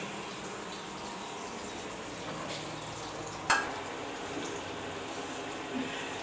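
Bitter gourd and potato frying in a pan give a steady, even sizzle throughout, with a single sharp clink of a utensil midway and a softer knock near the end.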